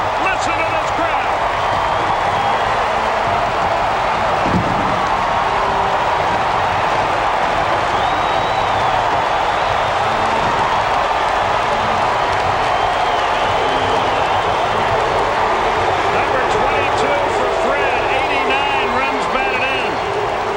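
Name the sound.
baseball stadium crowd cheering Braves walk-off win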